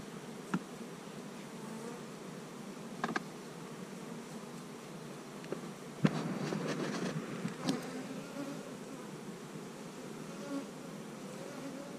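Honey bees buzzing in a bee yard while hives are smoked, a faint continuous hum of many insects with occasional soft clicks and knocks nearby.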